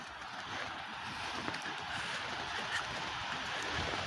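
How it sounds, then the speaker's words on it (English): Wind blows steadily through trees during a snow storm in southwest Washington, a broad, even whoosh with faint gusty swells and no voices. "The wind's coming up."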